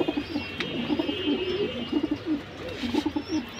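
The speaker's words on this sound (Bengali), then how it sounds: "কবুতর ভালো, খুবই সুন্দর কবুতর" Pigeons of fancy breeds such as Lal Patti, Military Silver and Bagha coo repeatedly and close by, in soft rolling bursts with brief pauses between them.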